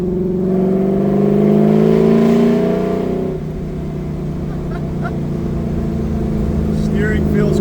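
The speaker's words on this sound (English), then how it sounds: "I've officially floored it in my LS3 swap 1969 Camaro" An LS3-swapped 1969 Camaro engine at full throttle, a loud close harmonic roar that drops abruptly as the throttle lifts, then settles into a lower drone.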